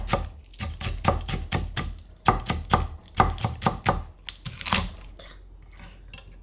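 A knife chops green onion on a board in quick, close, rhythmic strokes, coming in rapid bursts with brief pauses between them.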